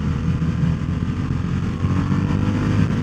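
A 2021 Harley-Davidson Sportster S with the Revolution Max 1250T engine accelerating on the highway, a close, steady, rumbling engine drone mixed with wind roar, continuous throughout, no talking.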